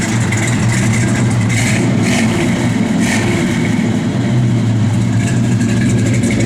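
A 1966 Chevrolet Chevelle SS sits idling, its V8 rumbling loud and close in a steady, deep burble with a brief rise in revs partway through.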